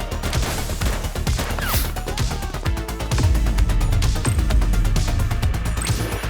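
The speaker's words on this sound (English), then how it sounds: "She's shooting!" Gunfire in the police game The Precinct on PS5, a dense spread of sharp shots and cracks over a constant loud game soundscape with music and city noise, several bursts close together.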